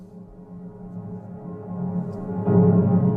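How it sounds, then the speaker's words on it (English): A reversed, fully wet reverb tail bounced from a chord swells steadily upward in loudness, a soft sustained wash that builds toward a fuller bloom near its end, alone with no voices. "I just bounced it out with just a wet solo reverb and reversed"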